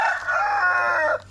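A rooster crows once, close and loud, a single drawn-out call lasting just over a second against a faint low hum.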